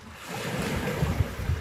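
Ocean waves surge and splash in a steady wash of surf under wind noise, with a few heavier rushes of water breaking close by and no voices.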